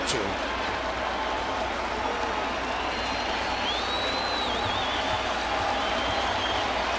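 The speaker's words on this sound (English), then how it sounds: "A crowd that's been held down because of the inclement weather getting loud" A large baseball stadium crowd, held quiet by bad weather, roars and cheers steadily, a broad wash of noise that swells slightly, with a faint whistle rising partway through.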